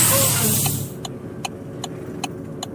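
A truck engine in American Truck Simulator shutting off, the loud engine rumble cutting out abruptly and leaving a quiet cab with a series of evenly spaced faint clicks or ticks.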